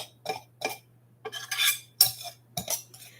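Butter being cut into flour in a mixing bowl for soda bread, heard as several separate bursts of clinking and scraping from a utensil against the bowl, fairly close, with short quiet gaps between strokes.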